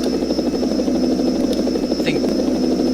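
A steady helicopter rotor drone with a buzzing, pulsing hum holds at a constant loud level throughout, a sound effect from a Formula 1 racing video game.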